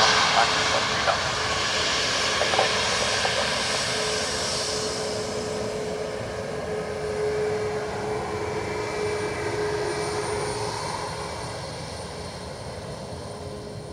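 A Delta jet airliner from Detroit lands at Dublin Airport, its engine roar loudest at first and slowly fading, with a thin steady whine running through it.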